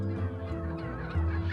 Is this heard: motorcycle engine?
no